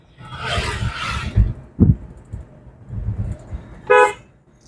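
A car horn gives one short, loud toot near the end, heard from inside a car during a beginner driving lesson, after a stretch of low engine and road rumble.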